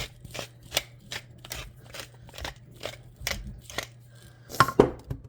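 Cracked pepper being ground over a potato and turnip casserole, a series of short, crisp grinding crunches repeating at a steady rhythm, close and fairly quiet with no talking.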